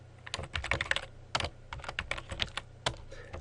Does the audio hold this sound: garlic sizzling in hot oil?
no